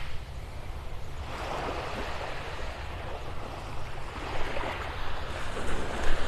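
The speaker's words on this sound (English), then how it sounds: "Always got this wave action right here" Waves surge and wash in a broad, rushing roar over a sandbar at Vanderbilt Beach, North Naples, swelling in slow pulses, with wind buffeting the microphone throughout.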